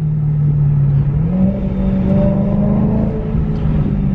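BMW M3 V8 fitted with a new valved Valvetronic exhaust, revving in second gear in sport mode, a loud deep engine note that climbs in pitch and holds, heard close from inside the car.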